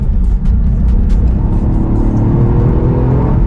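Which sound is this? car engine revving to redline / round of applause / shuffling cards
car engine revving to redline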